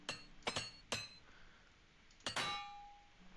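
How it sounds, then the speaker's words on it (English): Metallic clinks and a bright shattering clang from a repair hammer breaking while armor is mended in the Oblivion video game, with three quick sharp strikes and then a louder ringing break whose tone lingers, no talk. "Broke another hammer."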